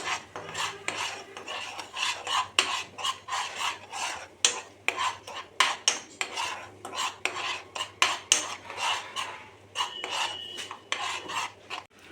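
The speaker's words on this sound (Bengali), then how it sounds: "এবার ভালো করে কষে নিতে হবে।" A spice mix of ground paste, a spoonful of sugar and salt is stir-fried in a pan for chhanar muitha, with steady, rhythmic scraping and rasping strokes of a spatula against metal, close and fairly loud throughout, no talking.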